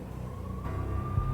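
Police sirens from the game Max Payne, a steady high tone holding over a low traffic rumble, fairly faint and continuous without any talking.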